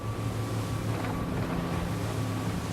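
A SACS Rebel 47 motorboat running at about 36 knots at 3,400 rpm, a steady loud engine drone mixed with rushing water and heavy wind buffeting the microphone.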